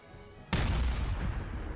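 Artillery cannon in Valkyria Chronicles 4 fires once with a sudden loud boom after a quiet lead-in, followed by a sustained rumbling roar that slowly fades.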